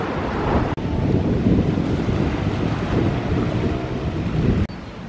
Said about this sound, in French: il y a un vent terrible, on dirait à la mer du Nord